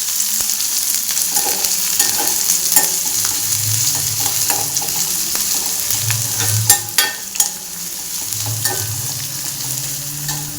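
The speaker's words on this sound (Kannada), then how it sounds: "ಒಂದು ಈರುಳ್ಳಿ ಹಾಕ್ಕೊತಾ ಇದ್ದೀನಿ. ಅದನ್ನು ಅಷ್ಟೇ ಚೆನ್ನಾಗಿ ಫ್ರೈ ಆಗಬೇಕು." Medium-cut chopped onion fries in a pan with a loud, continuous sizzle, broken by occasional clinks and stirring scrapes.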